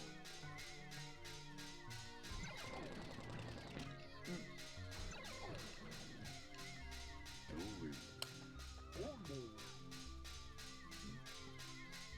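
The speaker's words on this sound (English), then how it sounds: "I like that they're just banging their heads and it sounds like one big noise" A crowd of Pikmin in Pikmin 2 bang their heads together, making a fast, steady train of sharp taps that merges into one continuous clattering noise over game music.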